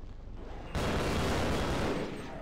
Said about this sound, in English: They are mortaring the fuck out of this place.